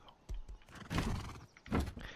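A horse in the survival video game Rust gives short whinnying calls in two loud bursts, preceded by a soft thud, over low game ambience.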